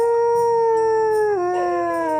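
A dog howls in one long, sustained wail whose pitch slides lower near the end, loud and close with no talking over it.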